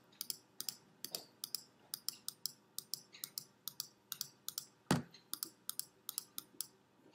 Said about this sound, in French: je choisis surface polygone et je clique tout le long, comme ça